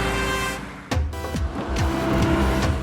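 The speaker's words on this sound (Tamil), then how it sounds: "எக்ஸ்கியூஸ் மீ, டிரைவர் வண்டி எடுப்பா" A cartoon car starts up after a brief hush and drives off, its engine rising loud and close into a steady motor roar that carries to the end.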